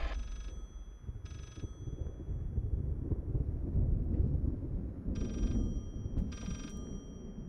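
A telephone rings in the horror video game Layers of Fear, with four short, bright bursts of ringing spaced unevenly across the clip over a constant low, rumbling ambient drone.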